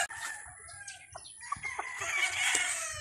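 A chicken of the early bird breed crows and clucks on a farm, a clear cock-a-doodle-doo call rising mid-clip with scattered clucks and other fowl calls around it, fairly close and loud.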